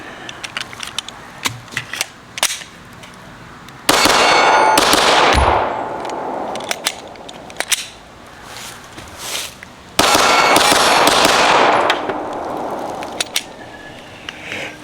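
Rapid pistol fire with a Gflex binary-style trigger, shots ringing off steel targets, coming in two long, loud bursts separated by quieter scattered shots and metallic clangs.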